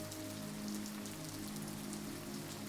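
Light, constant rain falls outside a casement window overlooking a canal, a smooth, even patter of many drops heard alone and at a calm, moderate level.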